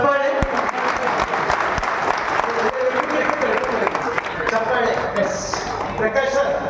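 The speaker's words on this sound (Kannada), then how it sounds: "ಚಪ್ಪಾಳೆ" Audience applause fills a seminar hall at a personality development talk, a dense, steady wash of many hands clapping close and loud throughout, with a few sharper individual claps and faint murmurs underneath.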